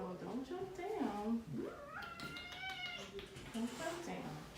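A cat meows several times close by, plaintive, drawn-out cries rising and falling, while a person talks softly over it.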